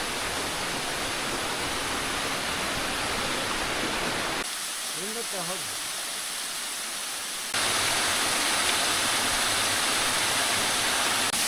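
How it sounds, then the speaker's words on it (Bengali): A steady broadband rush of falling water pours down a rocky hill trail in Rangamati, loud and continuous, dipping briefly in the middle while a few faint tonal sounds rise, then returning stronger. "এই দেখেন এই পাশেও ঝর্ণা আছে"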